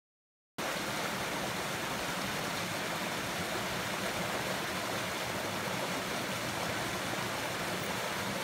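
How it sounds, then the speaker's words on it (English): A small waterfall in the Lake District rushes steadily, a dense continuous wash of falling water that starts abruptly and stays loud and close throughout, with no voices. "I've eventually found a little bit of a waterfall."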